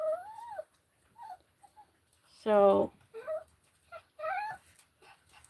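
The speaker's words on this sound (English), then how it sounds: "that's my dog desperately wanting my attention" Dog whimpering and giving high, wavering whines for attention indoors, in short bursts with a louder yelp-like cry in the middle, close by.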